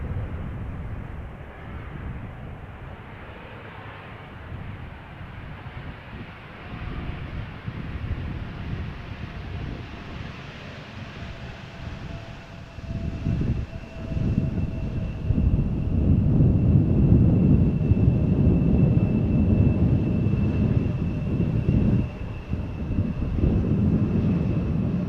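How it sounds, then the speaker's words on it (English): An Embraer 175 airliner arriving from Milan at Schiphol Airport, its steady low jet roar swelling from distant to louder and nearer over the clip, with wind buffeting the microphone and no one speaking. "Another Embraer 175 arriving from"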